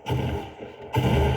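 Gunfire in the video game Fortnite, a headshot: two heavy booming shots about a second apart, each followed by a rumbling tail, loud and close with no talking.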